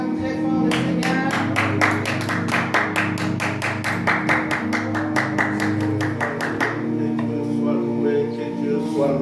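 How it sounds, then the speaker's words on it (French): Congregation at a Sunday church service claps steadily in a fast, even rhythm for several seconds, with sustained music and voices underneath, the clapping stopping near the end. "On acclame très fort le Seigneur."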